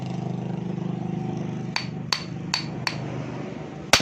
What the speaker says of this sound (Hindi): सीधा करने के बाद आपने हैमर की मदद से साइडों पर आपने इसको लगाना है आराम आराम से।